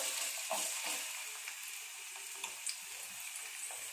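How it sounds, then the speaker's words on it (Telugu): Onions sizzle in hot oil for a country chicken curry, a soft, steady frying hiss with a few light stirring clicks, fairly faint and with no one talking. "నూనె వేడైన తర్వాత ఆనియన్స్ వేసుకోవాలండి"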